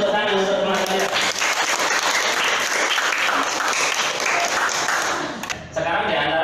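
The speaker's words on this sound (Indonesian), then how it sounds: "Kasih tepuk tangan untuk teman saya" A classroom claps for a student, loud, close and dense, sustained for several seconds with a brief dip near the end before rising again.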